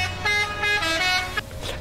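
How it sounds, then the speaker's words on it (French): Scania V8 truck air horns in Euro Truck Simulator 2, a couple of loud, sustained harmonic blasts sounding close over a low engine drone, with no talking. "comme vous l'entendez mes trompes comme avant"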